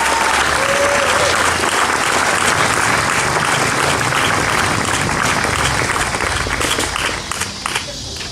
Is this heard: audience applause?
yes